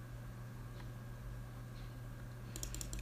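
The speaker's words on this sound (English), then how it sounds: "Sorry if you can hear my mouse clicking, by the way." Faint, sparse clicking against a steady low hum, with a quick cluster of sharper clicks near the end.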